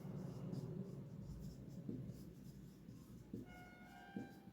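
Pen writing on paper while an accounting entry for revaluation is noted, a faint steady scratching under low room hum, with a few slightly sharper strokes.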